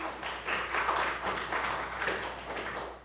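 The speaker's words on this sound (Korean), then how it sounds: "박수 한번 주세요" A church congregation claps together during an Easter Sunday service, a soft, fairly distant patter of many hands with a loose rhythm that runs steadily for a few seconds.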